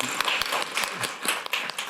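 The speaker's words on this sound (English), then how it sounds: "So I think they deserve a round of applause." Brief audience applause after a group presentation at a product roadmapping workshop, a few seconds of scattered, uneven clapping close by.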